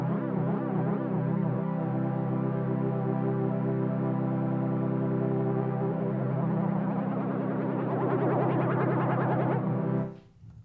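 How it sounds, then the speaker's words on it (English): A sustained Yamaha Reface CS synthesizer tone swirls with chorus shimmer, then turns into a sweeping, metallic flanger whoosh before cutting off. "goes from this chorus to the flange"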